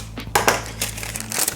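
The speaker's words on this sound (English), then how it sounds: "and just cut into the baking paper" Scissors snip into baking paper for muffin tin liners, giving a few crisp, close crinkling cuts and rustles in quick succession.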